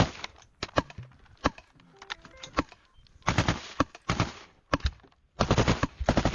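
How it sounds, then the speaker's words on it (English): Bursts of rifle fire crack down a trench line on the Ukrainian front, single loud shots mixing with rapid strings of rounds, with short pauses between volleys and a faint rustle of movement. "we now see the Ukrainian firing down the trench line again"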